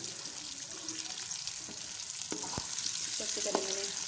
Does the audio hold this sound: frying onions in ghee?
yes